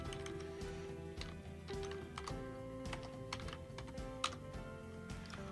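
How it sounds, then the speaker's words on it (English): Rapid, irregular key presses on a computer keyboard, close and quiet, with brief pauses between bursts of typing. "I've just typed in Einstein's famous equation here, E equals mc squared"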